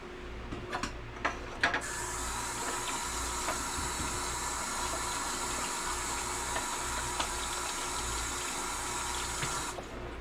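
Water runs steadily from a kitchen tap for several seconds while hands are washed under it during meatloaf prep, with a few brief clatters near the start.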